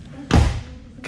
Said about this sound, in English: did you hear that door? It sounded like a brand new Mercedes shutting.